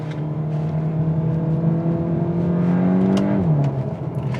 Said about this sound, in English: Now this doesn't sound as crazy as the other Golf R because it's a slightly less powerful motor